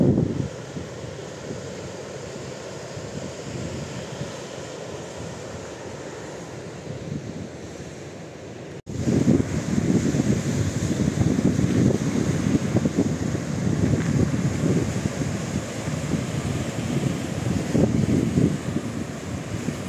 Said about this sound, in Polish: wieje, tak wieje.